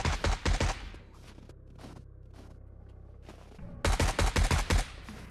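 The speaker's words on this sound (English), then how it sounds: "it just sounds like him shooting" Bursts of rapid gunfire from a player shooting in the zombie survival game 7 Days to Die, loud clustered shots at the start and end with a quieter stretch of scattered single shots between, and no voices.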